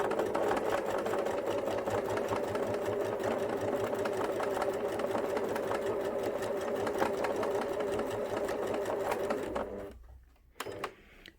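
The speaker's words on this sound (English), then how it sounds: "just so that fabric doesn't get pushed when I come along with my sewing machine" A sewing machine stitches a fabric bunny body in a steady, fast, close whirring run, then stops, leaving a few light clicks.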